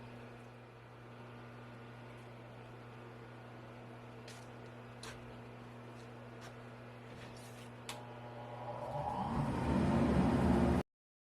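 A cope cutting machine hums steadily while idling, then the cutter bites into cabinet door wood near the end, rising into a louder rushing whir before stopping abruptly.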